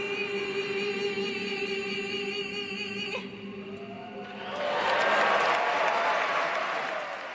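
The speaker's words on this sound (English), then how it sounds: "Huge applause, great moment" Crowd applause breaks out after a live national anthem performance, swelling from a fading sung note into a broad, loud roar of clapping and cheering that fills the second half.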